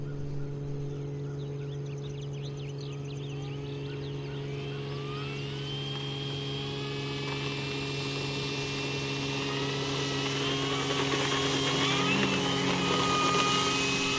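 An RC model F4U-1D Corsair with a 1600 mm wingspan and a big propeller takes off, its steady electric motor whine rising in pitch and growing louder as it climbs away, with no talk.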